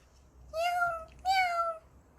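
Two short, clear cat meows come close together, each a rising-then-falling cry, in an otherwise quiet indoor space during a children's church sermon.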